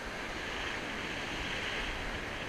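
Steady wind and surf on the shingle shore of Chesil Beach in October, a continuous broad rushing wash at even loudness with no breaks.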